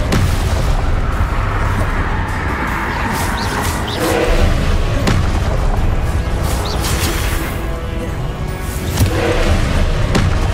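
A Confringo fire spell blasting in the Hogwarts Legacy video game, a dense loud wash of booming explosions and crashing impacts with sharp hits around the middle and end, continuous for about ten seconds with no talk.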